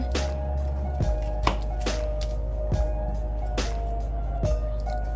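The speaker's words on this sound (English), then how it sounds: "You have to slice the sweet potato." A knife slices through sweet potato on a board, giving about eight sharp, evenly spaced chops over a steady low hum, close and fairly loud, with no talking.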